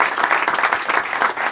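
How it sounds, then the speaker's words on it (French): Audience applause at a pop-rock guitar masterclass, honoring a student's guitar solo; a short, dense burst of clapping, steady and fairly loud throughout. "on peut applaudir Vassili"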